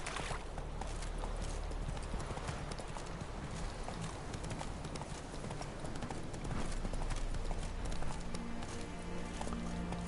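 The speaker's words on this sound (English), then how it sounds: "Roach, världens mesigaste häst." Roach the horse trots along in The Witcher 3, hooves clip-clopping in a fast, steady rhythm throughout, close and continuous, with faint in-game ambience underneath.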